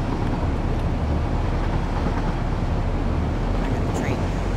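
A train in the factory-building game Satisfactory rumbles along steadily and loudly, a dense, continuous roar with a low throb and no clear breaks from start to finish.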